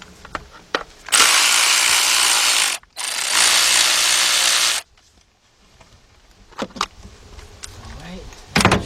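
A ratchet wrench turns out a 10mm bolt on the 1.6 engine of a 1991 Toyota Corolla with a severe oil leak: two loud, sustained bursts of close mechanical whirring separated by a brief gap, then quieter scattered clicks.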